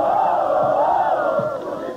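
Football fans chanting and cheering in a stadium at a Copa dos Campeões match between Sport and São Paulo, a dense, sustained roar of many voices that swells and slowly fades.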